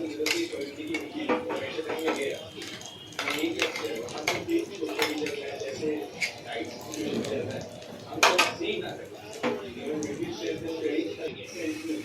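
Mustard paste being stirred into sola kochu in a pan gives repeated spoon-on-metal scrapes and clinks in an uneven rhythm, close by, while a voice speaks over it.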